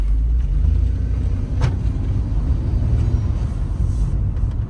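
Mercedes C300 car driving on its first ride after a battery change, a steady low engine and road rumble filling the whole stretch at moderate loudness, with one brief sharp knock partway through and no talking.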